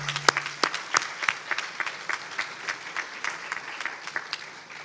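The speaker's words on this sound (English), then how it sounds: "I think that deserves a round of applause" A room of shareholders at a company's annual general meeting gives a round of applause, scattered individual claps at first that settle into a sparse, thinning patter with no voices over it.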